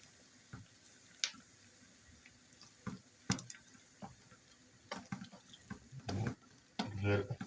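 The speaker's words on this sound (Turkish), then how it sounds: "tereyağıyla soğanla salmasını bekleyeceğim." Onions and tomato paste cook in butter in a pan, making a faint, quiet sizzle broken by scattered scrapes and clinks from stirring.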